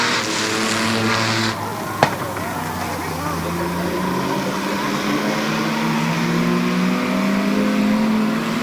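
Mini trucks race around a raceway at Barberton Raceway Park, engines droning and revving loudly as they pass, with a sharp clack partway through and a rising engine pitch near the end.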